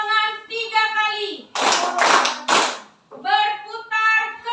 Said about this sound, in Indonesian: Tepuk tangan 3 kali.